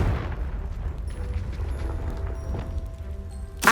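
A Confringo blasting spell in the Hogwarts Legacy video game, heard as a deep rumbling boom and low roar that carries through the clip and ends in a sharp burst, with faint tonal game effects above it.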